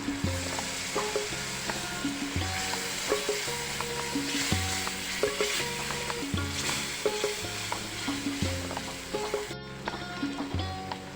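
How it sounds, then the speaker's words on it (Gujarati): Paneer masala gravy sizzles in a pan as water goes in, a loud continuous bubbling sizzle with rhythmic stirring knocks throughout. "થોડું પાણી એડ કરીશું"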